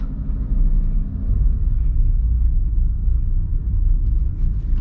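A manual car's engine idles near the biting point as the clutch is slowly let out on flat ground, a loud steady low rumble that holds smooth without revving.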